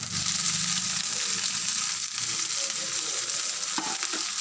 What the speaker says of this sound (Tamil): நல்லா கிளறிடுவோம்